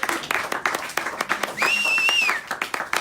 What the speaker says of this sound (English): Let's clap for courage.